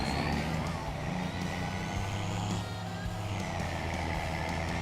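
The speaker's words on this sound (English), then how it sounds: "My only complaint so far about this truck is it doesn't have a jake brake." A small delivery truck used as a farm grocery getter in Farming Simulator 25 drives along with a steady low engine drone and road rumble, continuous and fairly close, without a jake brake.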